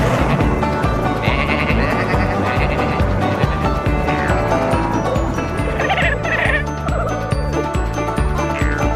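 Sheep bleat repeatedly on a farm in a cartoon scene, the calls rising over dense background music and effects that run throughout.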